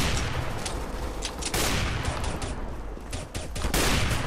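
Dense, loud gunfire rattles almost nonstop in the video game Counter-Strike: Global Offensive. Rapid bursts of shots overlap in a continuous barrage, with only a brief dip in intensity partway through.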